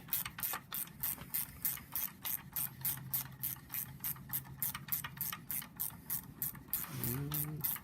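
Ratchet wrench with an adapter and Torx bit clicking on a BMW N54 engine from a 135i, rapid steady series of close ratcheting clicks in regular strokes, ending with a short squeak.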